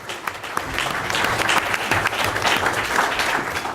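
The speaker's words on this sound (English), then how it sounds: "Let's give our panelists a round of applause" Audience at a panel discussion on Illinois finances clapping for the panelists, a brisk crowd applause of many hands, steady and fairly close for a few seconds.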